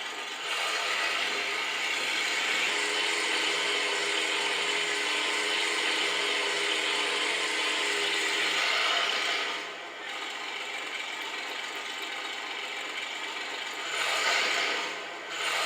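An Armortek 1/6 scale Tiger 1 tank model drives with a steady, faint mechanical whirring and rubbing of its motors and tracks, running continuously with two brief pauses near the end.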